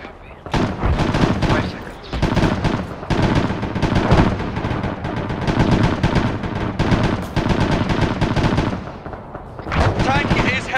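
Heavy gunfire rattles through a military video game battle, dense bursts of automatic fire and booming shots in long repeated volleys with brief gaps, loud and close, with voices faintly mixed in.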